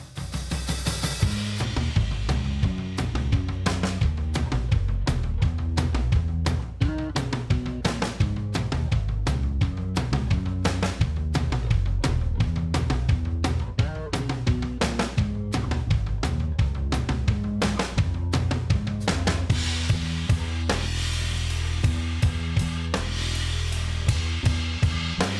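Patrick's bass guitar line with the drum kit on an indie pop track, with a busy, moving low bass under crisp, regular drum hits in a steady loud groove, and no talk.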